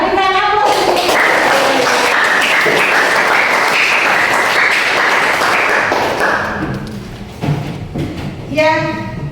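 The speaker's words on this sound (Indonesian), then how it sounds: "Oke, berikan aplaus." Audience applause at a school class presentation, dense steady clapping for about six seconds that thins and fades out, followed by a few scattered claps and murmuring voices.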